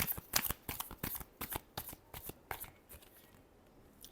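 Tarot cards being shuffled by hand, a quick run of crisp riffling snaps and slaps in a steady rhythm, close and fairly quiet with no talking.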